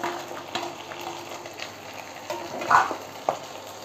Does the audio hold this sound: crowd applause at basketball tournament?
no